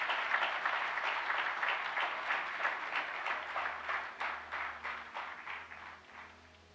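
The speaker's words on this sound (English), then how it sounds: "I think we can give a big," An auditorium audience at a tech event applauds as a guest walks on stage, a dense, fairly distant clapping that thins toward the end into separate rhythmic claps, with a low hum underneath.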